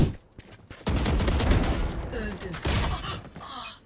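Rapid bursts of gunfire crackle loud and close, separated by short pauses, with a voice faintly underneath.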